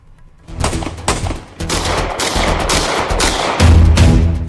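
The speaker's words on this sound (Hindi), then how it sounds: "फायरिंग की इन आवाजों ने कनाडा के वैंकूवर को दहला दिया" Gunfire outside a singer's house in Vancouver, Canada: a rapid series of loud, sharp shots in irregular bursts over several seconds, with a denser volley near the end and no talking.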